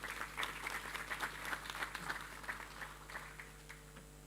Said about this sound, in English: Ladies and gentlemen, please a warm round of applause for Otumba Niyi Adebayo.